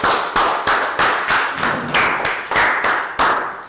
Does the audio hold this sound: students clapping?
yes